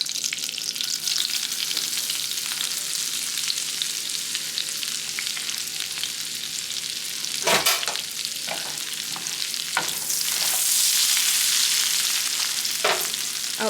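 Cumin seeds sizzle loudly and steadily in hot butter and oil in a home kitchen pan, with occasional sharp pops and spoon clatters breaking through the continuous frying hiss.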